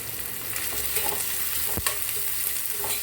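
Ginger garlic paste frying with onion and tomato in a pan for a suvarotti fry, a steady close sizzle with scraping stir strokes and a sharp clack near the middle.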